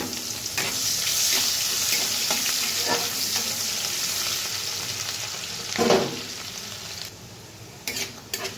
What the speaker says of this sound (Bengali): তো লাল লাল করে পেঁয়াজটা আমি ভেজে নিয়েছি